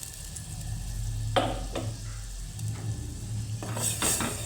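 Ground tomato, onion and garlic paste goes into a hot frying pan for a thin rasam, with a steady sizzle under several sharp scrapes and clinks of a spoon stirring against the metal pan.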